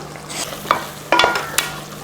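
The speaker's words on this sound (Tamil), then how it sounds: "தக்காளி அரைச்சி ஊற்றி இந்த மாதிரி நல்லா வதங்கிருச்சு" Ground tomato masala for South Indian tomato kuzhambu sizzles gently in a pan while a spoon stirs and scrapes in a few quick strokes.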